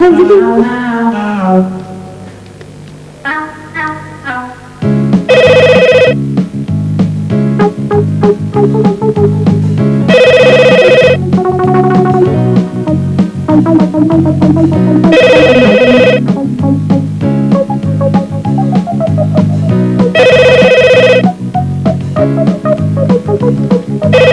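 A telephone ringtone plays loudly as a repeating melodic ring, with strong bursts about every five seconds, before a call is answered, alone without speech.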